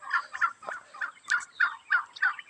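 Domestic turkeys on a farm gobble in a rapid series of about nine loud, rhythmic bursts, close by with no talk.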